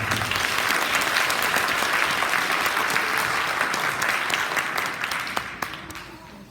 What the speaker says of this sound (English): One more round of applause for our blue team boys basketball.